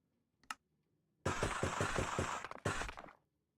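Minecraft explosion sounds from a creeper blowing up in Bedrock Edition: a short pop, then a loud, rough burst of pulsing blasts lasting over a second, a brief break, and a final blast that fades out.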